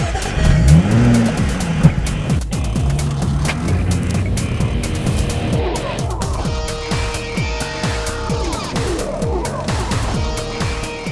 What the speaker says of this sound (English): That V6 engine is calling my name.